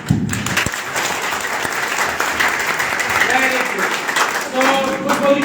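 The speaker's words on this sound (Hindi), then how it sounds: "एक बार मैं गलती से ताली बजाता हूँ, मेरा साथ दीजिए" Seminar-hall audience breaking into sustained applause, many hands clapping together at close range for the full stretch, with a few voices mixed into the crowd noise.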